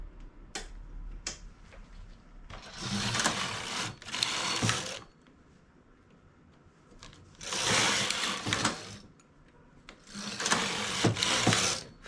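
A domestic knitting machine carriage is pushed back and forth across the needle bed with beige yarn, making two pairs of loud rattling, whirring passes separated by quieter pauses with faint clicks.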